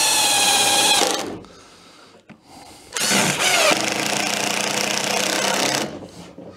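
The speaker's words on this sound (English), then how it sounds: "we'll just do these final couple of screws" Power driver whirring screws into a campervan locker panel in two sustained high-pitched bursts separated by a short pause, close and fairly loud.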